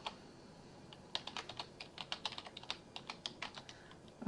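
Quick, uneven keystrokes clatter on a computer keyboard while text is typed, light clicks close by in bursts with brief pauses and no voices.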